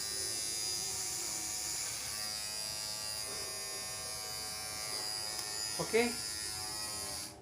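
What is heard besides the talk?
electric hair clipper running, being tried out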